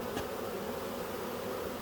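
Honeybees from a nuc colony being moved into ten-frame equipment give a steady, even buzz, close and continuous, with no voices.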